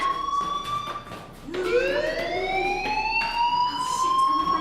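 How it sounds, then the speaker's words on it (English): Inside a school in the video game Life Is Strange, a fire alarm wails with rising, siren-like tones that sweep upward and hold, loud and continuous, with no talking over it. "Hey, do you hear that fire alarm?"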